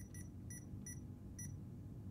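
Four short, high-pitched electronic beeps from an electric field detector at uneven intervals, each clean and brief, over a steady low hum.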